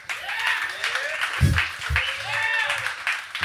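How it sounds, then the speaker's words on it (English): A live studio audience applauds, a steady wash of clapping filling the room, with voices audible alongside. "Please give yourselves a round of applause."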